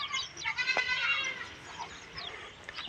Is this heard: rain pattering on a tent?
no